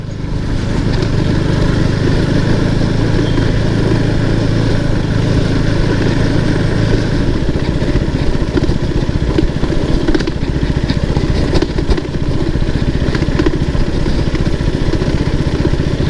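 Motorcycle ridden off-road on a rough, broken road on a bike trip toward Kudremukh, its engine droning loudly and continuously near the microphone, with rattling and a slight shift in tone partway through.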